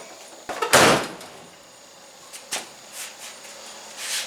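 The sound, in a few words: 1989 Chevy pickup door being closed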